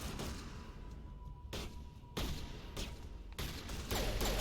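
Gunfire in the video game Mass Effect sounds as repeated sharp bursts of shots over a steady background rumble, with several loud broadband blasts spread across the clip.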